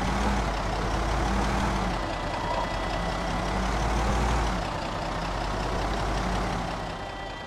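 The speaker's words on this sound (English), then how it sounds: "This engine noise is kind of loud." A beater ambulance in a zombie survival video game drives with a loud, steady engine drone and heavy low rumble throughout, with no talk over it.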